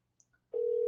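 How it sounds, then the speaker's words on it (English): An unanswered telephone call: after a couple of faint clicks, a steady electronic ringback tone starts and holds, close and clear, with no one speaking. "I don't think this person's picking up the phone, unfortunately."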